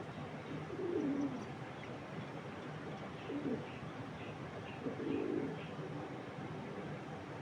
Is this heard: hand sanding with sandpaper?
no